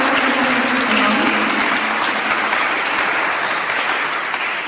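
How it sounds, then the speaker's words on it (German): Concert audience in a church in Lübeck applauding musicians after the first half of a gospel concert, a loud, dense and continuous wash of many hands clapping throughout, with no voices over it. "vielleicht schon mal einen kleinen Applaus für euch beiden, die heute den ersten Teil des Konzertes gespielt haben."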